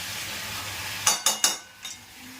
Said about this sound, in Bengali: সেই ফাঁকে এসে একটু করে নাড়িয়ে যাচ্ছি